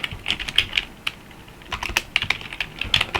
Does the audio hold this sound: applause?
no